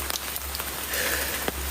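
Heavy rain pours outdoors on a hillside slope near a hospital morgue in Kebumen, a loud dense steady hiss with scattered sharper drop hits and no voices.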